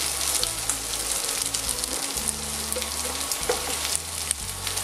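A potato and bacon omelette sizzles loudly and steadily in a frying pan while it is flipped, with dense crackling throughout and a few knocks of the pan.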